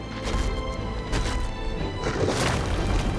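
Pyroclastic explosion and lava eruption in the video game Divinity Original Sin 2, dense rumbling crashes and booms rolling continuously with repeated heavy bursts.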